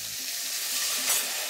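Veal paupiettes sizzle in a pan with carrots, shallots and celery, giving a brief, steady frying hiss.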